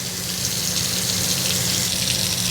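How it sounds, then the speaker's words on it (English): Steady spray of water from a handheld sprayer nozzle pressed against the scalp while washing braided hair, a continuous close hiss with a faint low hum beneath, no voices. "press your nozzle up against their head to keep the water from going everywhere"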